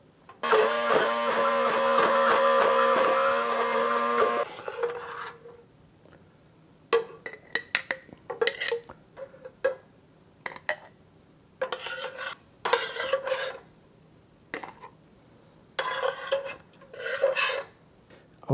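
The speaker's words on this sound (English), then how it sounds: "I'm going to mash this." Loquats being mashed for Persian-style jam with a hand masher in a pot, a run of short squishing, scraping strokes in uneven bursts after an early steady hum, close and moderately loud with no talk.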